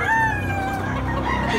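Rooster at a poultry market in Tabunok, a single loud close crow with a rising and falling tone filling the brief moment, over a low background murmur.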